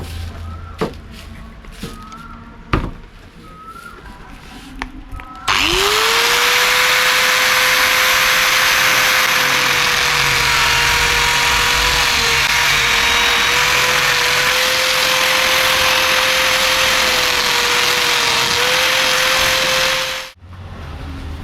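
A power tool cuts a racing underbelly panel to shape: after a few seconds of quiet clatter it starts abruptly, then a loud, steady high-pitched whine with hissy cutting noise runs for about fifteen seconds before stopping sharply.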